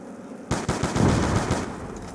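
A gun fires in zombie mode of Call of Duty Black Ops 2, a video game played on PC. After a quiet start comes a rapid, loud burst of repeated shots that rings out alone.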